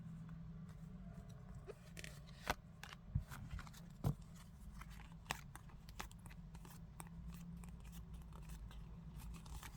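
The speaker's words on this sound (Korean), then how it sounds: "제가 뽑는 카드 같이 집중해서 뽑아 볼게요." Tarot cards being shuffled and drawn, heard as a few faint, sharp card snaps and flicks scattered over a quiet room background with low hum.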